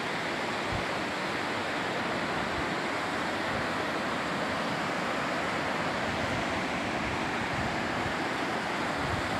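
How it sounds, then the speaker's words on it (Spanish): Waterfall at the Río Mundo springs in Riópar: a steady, dense roar of falling water, loud and close, filling the clip without pause and with no voices over it. "Dale la cortina de agua que hace"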